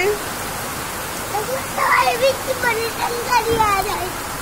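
Heavy rain falls outside in a steady, even hiss, while people talk over it in the foreground.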